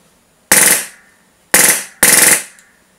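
A Wolverine SMP airsoft replica fires in burst mode, three sharp, loud volleys of rapid shots, each a short burst that cuts off cleanly, with the last two coming close together.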